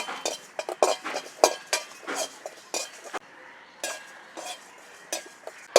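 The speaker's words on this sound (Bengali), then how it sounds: "এখন এর মধ্যে দিয়ে দিচ্ছি ধনে আর জিরে আর দিয়ে দেব তিনটে শুকনো লঙ্কা এবার একটু হালকা করে ভেজে নেব" Coriander seeds, cumin and three dried chillies are dry-roasted in a hot wok, with a metal spatula scraping and clinking against the pan in irregular, close strokes and brief quiet gaps between them.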